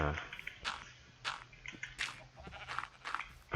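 Minecraft sheep bleat on a sheep farm in the game, a series of short wavering cries repeating every half second or so, fairly close, with someone talking at the same time.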